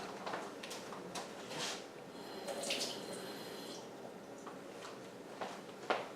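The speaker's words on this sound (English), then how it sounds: "So I'm going to add just a tiny bit more water." A small amount of water poured into pizza dough, giving a faint, brief trickle and light splashy patter in a quiet kitchen, with a few soft clicks and taps.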